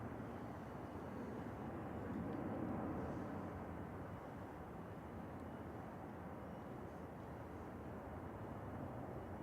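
A Boeing 737-800, flight 6817 from Milan, touches down at Manchester Airport, its distant jet rumble and broadband roar steady and faint, without voices.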